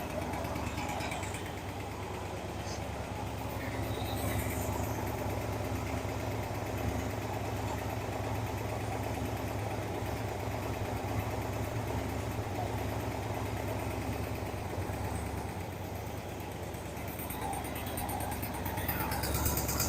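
Pontiac 400 V8 idling steadily at low pitch for about twenty seconds, a continuous even rumble with a slightly loose lifter tick and exhaust leaks, recorded fairly near in a shop with no talk.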